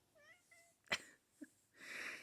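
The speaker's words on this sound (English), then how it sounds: "There's my cat." A domestic cat gives two short, soft meows close by, then a sharp click, a dull knock and a stretch of rustling noise.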